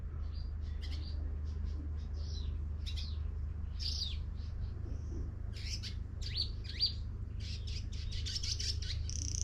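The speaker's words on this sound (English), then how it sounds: "Got birds chirping." Birds chirp in short, repeated bursts over a low steady background hum in Khao Sok, Thailand, several calls scattered throughout, clear but not close.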